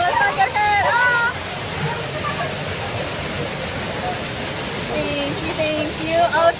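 A waterfall pouring over a resort lazy river near Ko Olina, a loud steady broadband rush close by, with people talking and calling out over it.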